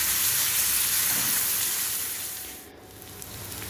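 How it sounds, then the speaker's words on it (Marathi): Chopped onion, garlic and crushed chili paste sizzle with crackled cumin seeds and a pinch of turmeric in a hot pan, giving a steady, close, hissing fry that dips slightly for a moment. "जिरं तडतडलं की मग त्यात चिरलेला बारीक कांदा आणि लसूण मिरचीचा ठेचा टाकायचा आणि चिमूटभर हळद आणि चांगलं परतून घ्यायचं"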